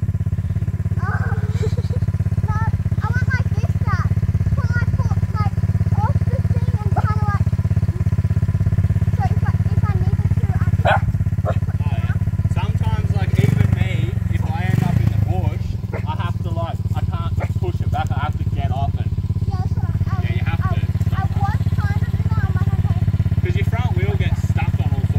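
A child's dirt bike engine running nearby, a steady loud motorcycle drone that holds throughout, with an adult's voice talking over it now and then.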